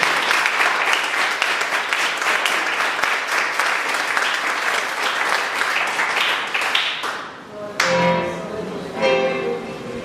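A church congregation claps for the Lord during a worship service, a steady, full burst of applause lasting around seven seconds before fading, followed by a brief reverberant tail and faint sounds.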